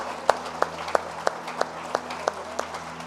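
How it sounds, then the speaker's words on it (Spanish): Church congregation clapping in a steady, even rhythm during a Pentecostal service, sharp regular claps spaced about a third of a second apart over a low hum. "Le demos un fuerte aplauso a nuestro Dios Trino"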